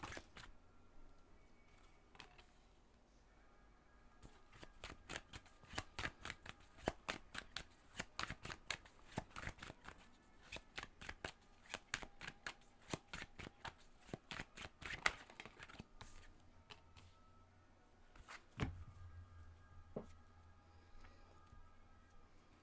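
A tarot deck being shuffled by hand: a long run of close, quiet riffling card snaps in irregular bursts, with no talk during the shuffle.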